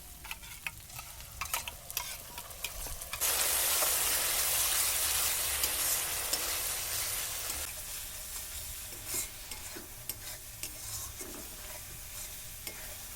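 Yogurt poured into a hot pan of sizzling spice paste for a Bengali mustard-yogurt fish dish sets off a sudden loud burst of crackling that slowly settles into softer sizzling, with scattered utensil knocks before and after.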